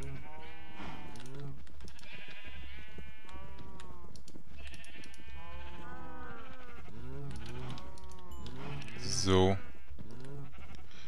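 Sheep in a crowded farm pen in Minecraft bleat repeatedly in a steady stream of game bleats, with one louder burst near the end, under continuous talk from players.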